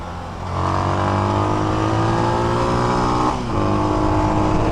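An SWM Outlaw 500 motorcycle engine drones steadily while riding, holding a constant hum with a brief dip and recovery in revs partway through, loud and close with wind noise.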